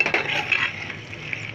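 Cashew paste being stirred into chicken masala in a pan for shahi murg, a spoon scraping and clinking against the metal with faint sizzling, close and steady over a short stretch.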